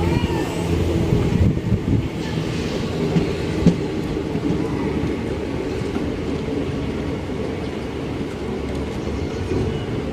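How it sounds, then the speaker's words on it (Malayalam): Basava Express passenger train rolling into Ramanagaram railway station, a loud, steady low rumble of wheels and carriages with faint clatter and some wind buffeting the microphone throughout. "രാമനഗരം എന്ന് പറഞ്ഞ റെയിൽവേ സ്റ്റേഷനിലേക്ക് നമ്മുടെ വണ്ടി കയറിക്കൊണ്ടിരിക്കുക കേട്ടോ."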